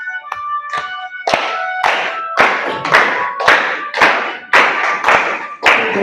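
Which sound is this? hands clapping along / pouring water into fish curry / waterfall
hands clapping along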